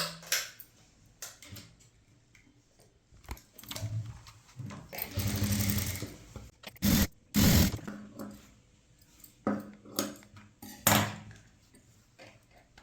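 A sewing machine stitches blouse lining in short bursts, whirring and clattering in several runs of one to two seconds, separated by quiet pauses.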